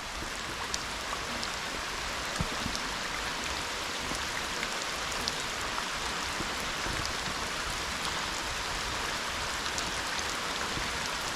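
Steady rain falls across an outdoor fishing spot, a dense, even hiss of drops pattering on surfaces that holds constant and fairly close throughout, with no talking.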